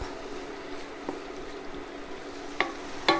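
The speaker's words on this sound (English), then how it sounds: "you want to mix it all and cook the spices into the onions and tomatoes" Onions, tomatoes and spices cook together in a pan for a Kerala fish curry, a soft continuous sizzle with a few faint scraping stirs near the end.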